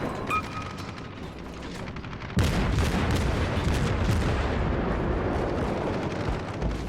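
Anti-air guns on a warship in World of Warships fire in a rapid, sustained clatter that bursts in suddenly and keeps going loud over a low rumble, with no talking.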